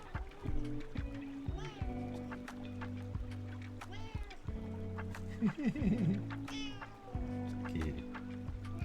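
A cat meows several times in a video game while a person talks repeatedly throughout, their voice mixing with the calls over a steady background tone.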